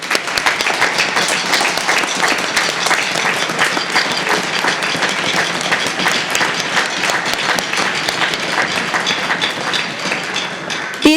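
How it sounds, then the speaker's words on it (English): Sustained applause from a large crowd at a 5th and 6th grade school band concert, dense steady clapping that fills the whole stretch at an even, loud level. "can you please stand so we can give you a round of applause too?"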